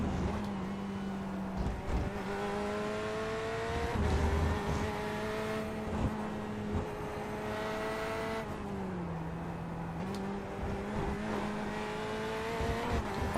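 A BMW race car in the iRacing video game circles the Snetterton circuit, its engine loud and close, repeatedly climbing in pitch through the gears and then dropping on upshifts and braking, with no talking.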